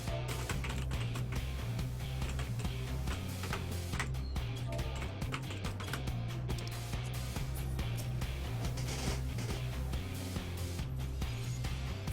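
Rapid, continuous tapping on a computer keyboard runs for about twelve seconds, dense, close and fairly quiet, under steady background music from a Final Fantasy 14 game session.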